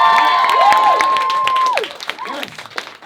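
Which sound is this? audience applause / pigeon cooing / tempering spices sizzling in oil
audience applause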